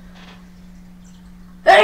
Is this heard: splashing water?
no